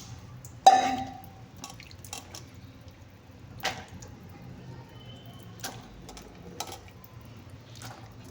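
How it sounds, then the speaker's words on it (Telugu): Sweet corn kernels being washed in a little water: a few faint splashes and drips, with one sharper splash near the start and soft sloshes spaced out after it in a quiet room. "ముందుగా ఈ స్వీట్ కార్న్ అయితే కొద్దిగా వాటర్ అయితే వేసి క్లీన్ చేసుకుందాం."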